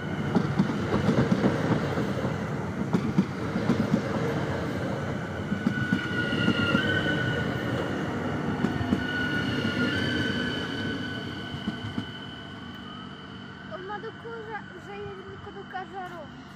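A passenger train departs Zvolen Osobná station in Slovakia, rolling through with rumbling wheels and clatter, brakes squealing faintly, then slows and quiets toward the end.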